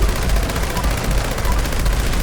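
Heavy, dense gunfire from a large-calibre weapon in the video game Fallout 76, a continuous loud rapid burst with explosions mixed in.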